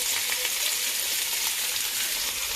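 Boiled mung beans hitting a hot frying pan for a Filipino monggo dish with banana pith, giving a steady close sizzle and frying hiss throughout.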